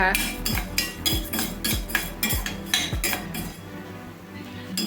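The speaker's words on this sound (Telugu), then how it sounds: "చూడండి ఇట్లా కలుపుతూనే ఉండాలండి లేకపోతే అడుగు మాడతాయి" Urad dal roasting in a pan while a metal spoon stirs it, with repeated rhythmic clinks and scrapes of metal on metal and a dry rustle of lentils, close and fairly loud, then easing off toward the end.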